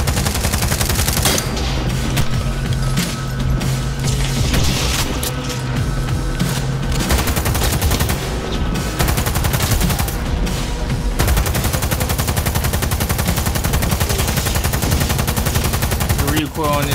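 Loud, sustained automatic gunfire in Cyberpunk 2077, rapid bursts rattling almost continuously with short gaps, dense and close over a background score.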